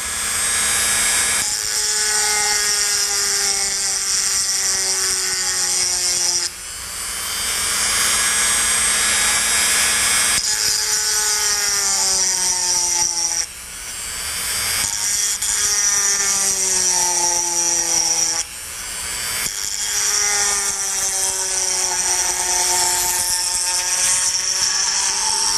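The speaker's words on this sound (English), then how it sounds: "We set it to, you know, about maybe 1/3 speed, and we're just going to start grinding." Bench grinder at roughly one-third speed grinding glass for a homemade Fleming diode vacuum tube, a loud steady whine with shifting tonal harmonics that dips and restarts at a few points, no talk.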